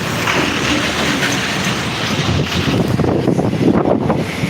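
Steady low rumble and rattling of a slowly moving train, heard close with wind buffeting the microphone.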